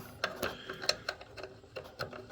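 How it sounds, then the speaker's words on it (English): A 3/8 ratchet wrench clicks in short irregular bursts as it works the fasteners of a fluorescent light ballast, quiet but close, with no talk. "it is a 3/8 wrench"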